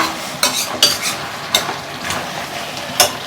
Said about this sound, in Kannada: ಹಾಕ್ಬಿಟ್ಟು ಸ್ವಲ್ಪ ತಿರುಗಿಸ್ಕೊಡ್ತೀನಿ